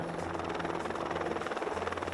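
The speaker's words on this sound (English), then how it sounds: "the most effective way into our block this year was by helicopter" A helicopter flies over a remote, isolated hunting block. Its rotor throbs steadily and densely, and a low engine drone holds throughout, fairly faint as if at some distance.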